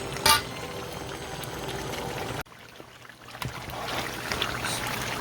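Brown stew jerk pork simmering in its own juices in a pot with no added water, a continuous close bubbling and gentle hiss that dips briefly before swelling back.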